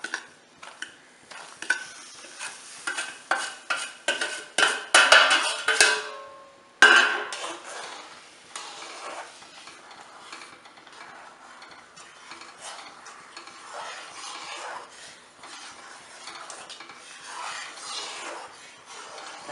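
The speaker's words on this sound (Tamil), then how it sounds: "இப்போ நான் இந்த ரவையை கொஞ்சம் கொஞ்சமாக போடுறேன்." A spoon scrapes and stirs semolina into a pan for mango kesari, with a quick run of clinks and scrapes before settling into quieter, continuous stirring and faint sizzling.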